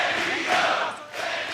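Wrestling crowd at ROH Death Before Dishonor in Philadelphia roaring and cheering in a dense, steady wash of noise that swells and dips slightly, with no talk over it.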